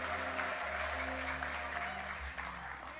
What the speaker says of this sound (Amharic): ለእግዚአብሔር ክብር እልልታን ጭብጨባን የሚሰጥ ሰው አለ እዚህ ጉባኤ ውስጥ?